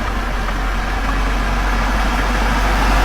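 A car engine running steadily as the vehicle pulls away at night, a loud continuous low rumble with a slight rise toward the end and no voices.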